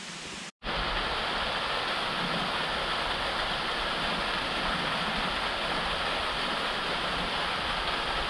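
The Mürrenbach, a drinkable mountain stream in the Jungfrau region of Switzerland, rushes in a steady, dense broadband roar after a brief dropout at the start, loud and close with no voices.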